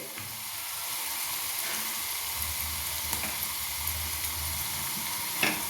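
Carrot pieces and orange peel frying in oil over a low flame, giving a steady, close sizzle throughout with a few faint stirring clicks and a small knock near the end.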